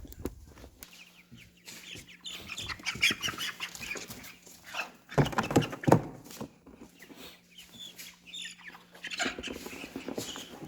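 Chicks clucking and chirping close by in a brooder, with scattered rustling and soft thumps, a faint steady hum running beneath.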